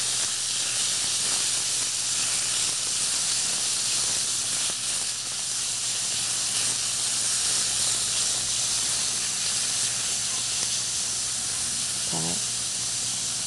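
Korean pork hind leg meat sizzles in a deep, preheated pan at the start of cooking a hijiki rice dish. A continuous, even hissing sizzle holds steady and close throughout, with no speech.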